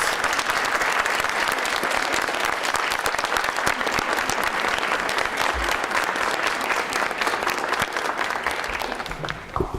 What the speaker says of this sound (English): we all want to give you a round of applause